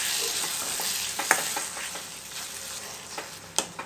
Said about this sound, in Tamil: ஒரு நிமிஷம் அந்த எண்ணெயிலே இது எல்லாத்தையும் வந்து வதக்கிப்போம்.